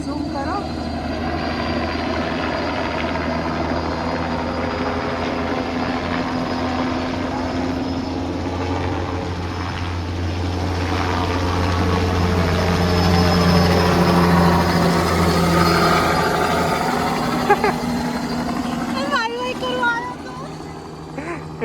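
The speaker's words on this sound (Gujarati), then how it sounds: "હેલિકોપ્ટર વાળો ત્યાંથી ટર્ન થઈને અમને ખાલી હાઈ કહેવા માટે અહીંયાથી આવીને ગયો." A private helicopter flies overhead at Duncan's Cove trail. Its continuous rotor and engine drone swells as it passes closer midway, while people talk over it.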